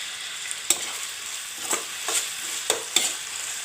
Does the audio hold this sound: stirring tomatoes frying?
yes